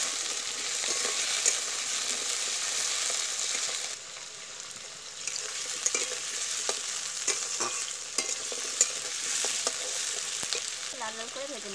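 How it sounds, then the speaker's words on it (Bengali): Potatoes fry and sizzle in a pan for an egg curry, a steady broadband crackle with intermittent stirring scrapes and clinks, fairly close and continuous without talk. "কিন্তু আমি প্রথমে আগে আলুটা ভেজে নিচ্ছি।"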